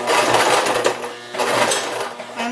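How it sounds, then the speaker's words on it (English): Home sewing machine running a straight-stitch seam with a half-inch seam allowance on a fabric face mask, a steady close-up mechanical whir and rapid needle clatter that pauses briefly midway, then resumes. "jump right in with our machine on a straight stitch"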